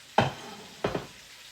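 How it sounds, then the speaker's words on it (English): Cornstarch-coated beef hits hot oil in a skillet with two short, bright sizzling bursts about half a second apart, each fading quickly into a soft background hiss. "Add to skillet and cook until seared, about 2 minutes per side."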